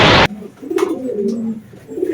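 Pigeons coo in low, soft, repeated phrases close by, with a brief burst of broadband noise at the very start and faint higher chirps now and then.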